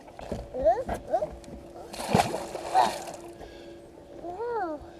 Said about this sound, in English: The catfish splashed you?